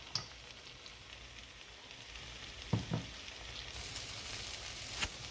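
Potatoes sizzle and fry softly in a pan as part of a scrambled egg breakfast, a steady low hiss with a couple of brief clinks or stirs partway through, fairly faint and without talk.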